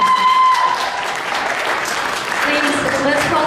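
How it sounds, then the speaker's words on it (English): Audience applause at a congressional candidates' debate, a loud, dense burst of clapping that holds steady throughout, with some voices mixed in. "Please, let's hold the applause until the end for everyone, okay?"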